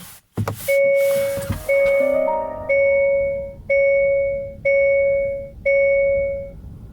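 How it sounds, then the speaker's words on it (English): A Hyundai Kona Electric's seatbelt reminder chime dings six times at a steady pace, each tone ringing out clearly, loud and close with no talking. "this beeping, what you just heard, always is a reminder to put on your seatbelts."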